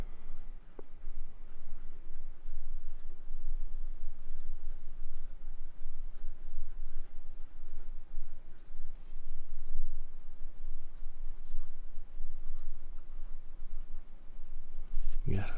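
A CLICK Renaissance fountain pen with a wet nib writes on 90 gsm Optic Paper, giving a soft, continuous scratching of nib on paper with small strokes and pauses throughout, close up and steady.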